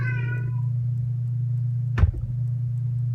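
A cat gives a short meow at the start over a steady low electrical hum, followed later by a sharp thump.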